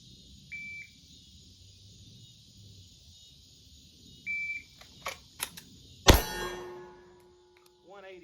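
Short electronic shot-timer beeps sound during timed draws of a Flux-braced Glock 17 pistol, followed by a sharp, loud gunshot and its ringing decay, with small clicks and handling noises around it.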